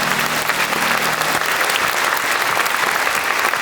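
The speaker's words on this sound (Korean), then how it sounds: "이제 정말 뜨거운 박수로 우리 축하해 주시기 바랍니다" Loud, dense applause from the congregation at a pastoral ordination service, a steady wash of clapping hands that holds without pause for several seconds.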